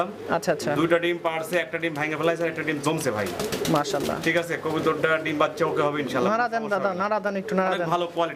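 Fancy pigeons at a market coo in low, repeated throaty calls, crowded and close, mixed with people talking throughout.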